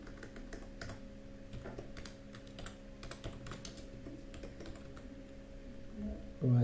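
Steady clicking of typing on a computer keyboard, quiet and close, in bursts of keystrokes over a faint hum.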